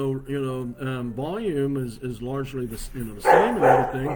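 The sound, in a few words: dog barking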